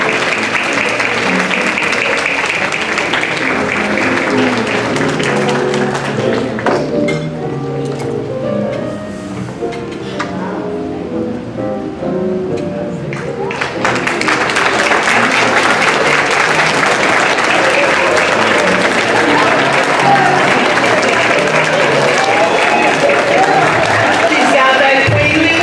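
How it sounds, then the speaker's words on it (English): Loud, sustained applause from a church audience at an NAACP Mother of the Year ceremony, honoring a woman from a Missionary Baptist church in Gulfport, Mississippi; dense clapping fills the room, dips briefly midway, then swells again with crowd murmur. "give her a beautiful round of applause"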